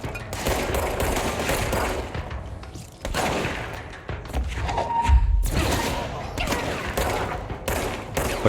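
Rapid bursts of gunfire and heavy thuds from the action game Control, loud and close in clustered volleys with short gaps between them, with no voice over the shots.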